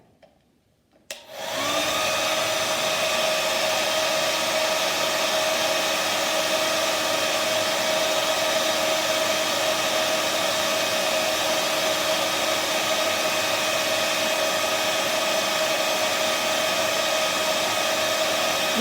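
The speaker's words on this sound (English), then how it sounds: "I'm going to use blow dryer for just a second." A blow dryer clicks on after a second of quiet and then runs steadily and loudly on acrylic paint, a constant whooshing drone with a motor whine that holds for the rest of the stretch, with no talk.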